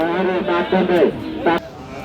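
Beef cattle and fattening bulls at a livestock market near a border area moo in short, loud bursts, with several calls close together amid crowd voices and people talking nearby.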